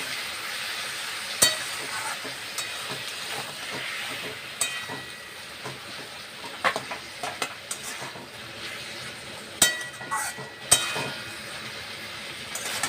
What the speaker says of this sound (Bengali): এইভাবে আস্তে আস্তে করে নেড়ে নেড়ে ভেজে নিতে হবে।